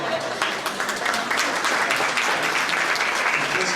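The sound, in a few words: audience applause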